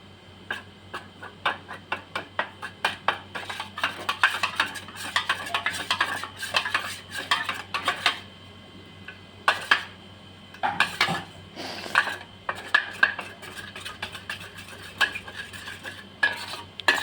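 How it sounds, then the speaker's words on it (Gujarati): A spoon stirring a yogurt and sugar mixture clinks and scrapes steadily against a bowl, a quick repeated rhythm of small metallic taps, close up with no talking. "હવે આપણે બધું જ મિક્સ કરી દઈશું"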